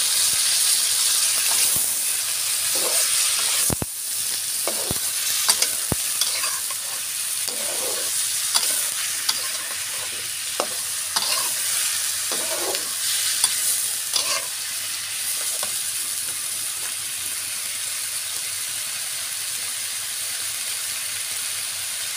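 Chopped onions sizzle steadily in hot oil in a pan, stirred now and then with scraping clicks, a continuous close frying hiss throughout.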